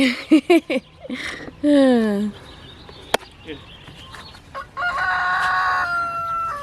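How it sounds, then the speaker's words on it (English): A rooster crows loudly nearby amid clucking fowl, with a sharp click and other birds calling faintly afterward. "That's the good rooster."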